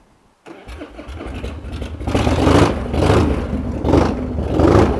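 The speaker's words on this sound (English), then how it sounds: "It's hard, in my opinion, to beat the sound of these old carbureted Evos." A 1997 Harley-Davidson Springer Softail with a carbureted Evo engine cranks and catches, then idles roughly with uneven surges in revs, close and loud.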